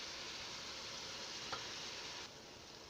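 Pork sizzles in a skillet as it browns, a faint, even frying hiss with one small tick partway through and a slight drop in level near the end.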